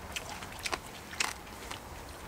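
Pork belly and garlic stems grilled on a cast-iron lid are chewed close up, with soft repeated crunchy bites and mouth sounds, no talking.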